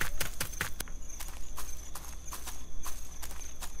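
Horse hooves clip-clopping in the video game Knock Knock, a quick run of sharp, fairly close knocks in an uneven walking rhythm, with no talk.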